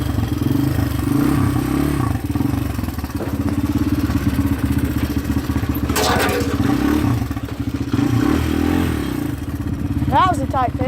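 A dirt bike ridden on a paved road, its engine droning steadily with rising and falling revs and some clatter, with someone talking over it.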